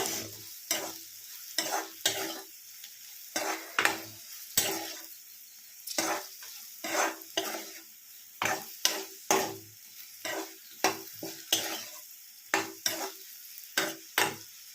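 Vegetable bhaji frying with turmeric and salt in a pan, stirred steadily with a utensil: rhythmic scraping strokes repeat every second or so over a soft continuous sizzle, close and moderately loud, with no one speaking.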